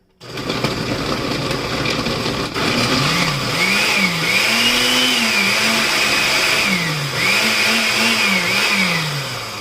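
A blender motor whirs loudly and continuously while making a smoothie, its pitch rising and falling in waves as it labors, close by.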